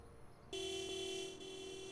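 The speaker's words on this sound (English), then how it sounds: "I can honk the horn." A single sustained car horn blast in a Back to the Future video game, loud and steady for about a second and a half, following a brief quiet moment.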